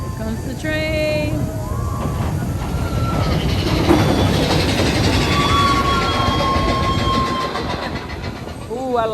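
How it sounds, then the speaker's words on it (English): A train rolls past at Magic Kingdom, a steady rumbling rail clatter that runs throughout, with whistle-like tonal calls and people talking over it. "Here comes the train."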